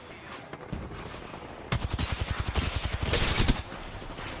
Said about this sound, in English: We're all shooting this man for him, and he still dies.